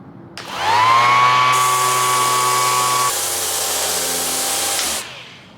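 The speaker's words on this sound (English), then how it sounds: "So we're gonna try to sand it down as much as we can." A power sander whines steadily against the rusty, painted body of an old Mustang, its pitch dropping slightly midway as it bites into the metal, loud and close for about five seconds with no talking.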